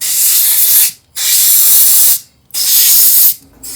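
Dry chain wax lube sprayed from an aerosol can onto a Snapper rider mower's transmission, three loud, close hissing bursts of about a second each separated by short pauses.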